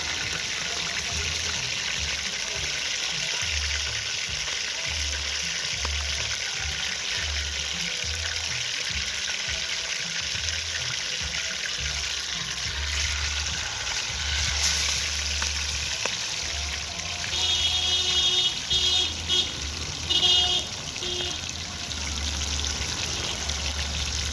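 Fish fries slowly in a pot of hot oil for a Jamaican escovitch dish, giving a steady, close, even sizzle and crackle that carries on throughout with no talking.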